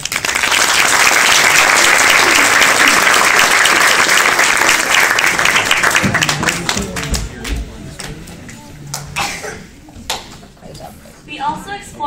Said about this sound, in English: Actors, go ahead and take a round of applause.